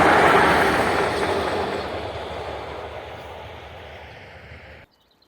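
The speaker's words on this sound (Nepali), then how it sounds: "सानो रेल आउँदैछ छोटो।" A small train passes in Romania, a loud rolling rumble that is strongest at the start, fades gradually as it moves away, and then cuts off into near silence.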